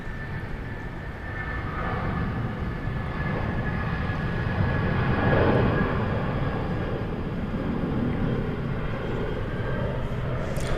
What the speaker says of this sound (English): a Korean Air 747, taxiing to begin its journey to London, Heathrow.